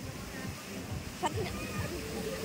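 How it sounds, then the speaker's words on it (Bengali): A girl splashes about in water, producing a few soft, brief splashes near the middle that sit under nearly constant talking. "দেখো কীভাবে জলে ঝাপাঝাপি করছে"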